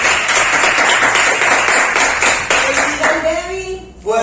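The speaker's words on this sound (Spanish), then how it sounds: "Yo creo que eso merece un aplauso" An audience claps during a Spanish-language talk podcast. The clapping is brisk and sustained for several seconds, then thins out as a voice or tonal sound rises near the end.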